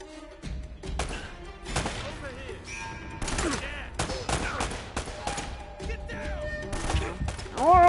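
Rapid bursts of gunfire from enemies in the video game Uncharted crackle through the whole stretch, with sharp repeated shots and thuds over layered game effects, fairly loud and continuous.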